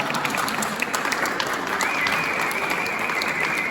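An audience claps steadily and fairly loudly throughout at a theatre book presentation, with the applause forming a dense, even wash and no voices standing out.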